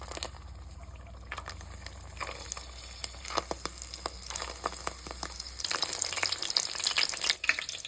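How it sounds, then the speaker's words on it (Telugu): Colocasia leaf rolls, tied with thread, fry in hot oil with a steady sizzle and popping crackles, growing louder and busier in the last few seconds, with no talking. "వీటిని నూనెలో దోరగా వేయించుకుందాం, కొంచెం నలుపు రంగు వచ్చే వరకు"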